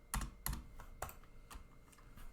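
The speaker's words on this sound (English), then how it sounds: "No, Alice, you shouldn't be typing all of that." Fingers type on a computer keyboard during Python coding, with a few sharp, separate keystrokes and short bursts of clicking spaced unevenly. The keys sound close but quiet.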